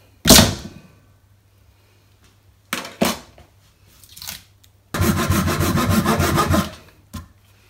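A hand saw cuts through steel for a puukko knife blade, with a few separate rasping bursts before a longer, loud run of steady back-and-forth strokes, close and without talk.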